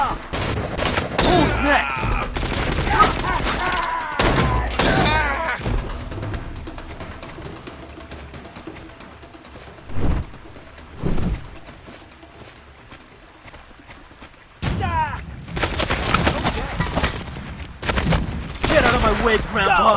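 Bursts of gunfire in the game Legend Arya, with dense volleys early on, a quieter stretch broken by single loud shots, then heavy firing again near the end, while a voice speaks briefly.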